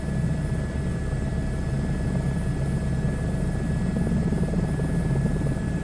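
A helicopter flies in a VR flight game, its engine and rotor making a loud, steady drone with a constant hum that runs the whole time with no talking.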